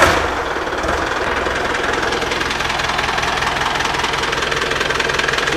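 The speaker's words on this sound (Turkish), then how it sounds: "Meşhur Magirus'umuzun motor sesi." A restored Magirus truck diesel engine idles close up, a loud, steady, rough clatter with a knocking rhythm that holds unchanged from start to finish, with no talk over it.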